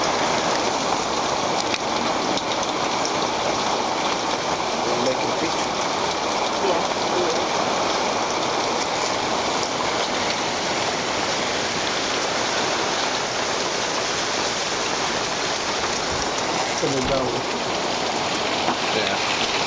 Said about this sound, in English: If this rain lets up a little bit, maybe.